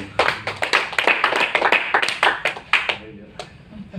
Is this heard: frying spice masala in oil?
no